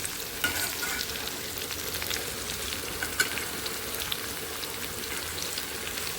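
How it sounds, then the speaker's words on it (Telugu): Pieces of bitter gourd (kantena kakarakaya) fry in oil for a home-style curry, giving a steady, close crackling sizzle with scattered pops and no talk. "చూడండి, ఎంత చక్కగా మగ్గిపోతున్నాయో ఆయిల్లో."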